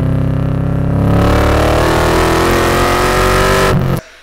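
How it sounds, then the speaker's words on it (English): A loud LS1 V8 engine in a swapped Nissan 240SX revving up nearby, rising in pitch with a deep rumbling growl, then cutting off abruptly. "Remember my LS Swap 240SX?"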